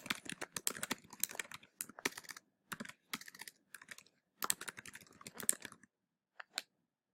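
Close, quiet clattering of typing on a computer keyboard in irregular bursts of keystrokes separated by short pauses, ending with a couple of isolated taps.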